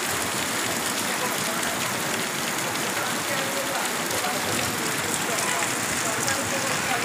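Steady heavy rain pours down outdoors in Raiwind, Pakistan on a July morning, a dense continuous hiss of drops hitting the ground and surfaces throughout, with no one speaking.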